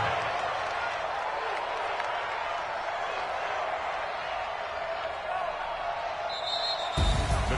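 Stadium crowd noise from a PS4 American football game hums as a broad, steady murmur under a commentator's voice, with a sharp burst near the end.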